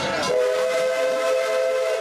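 Runaway mine train ride at Big Thunder Mountain in Magic Kingdom, with a steady, sustained whistle-like tone held over a rumbling, busy mechanical wash for about two seconds.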